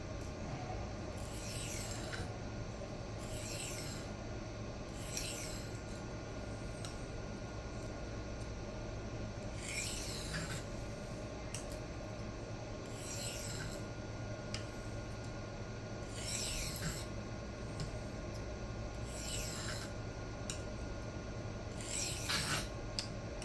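A Kizer Baby knife with a 154CM steel blade is drawn across an Atoma 140 diamond plate in repeated rasping strokes, about ten over the stretch, each one short and close. A low steady hum sits underneath and no one speaks.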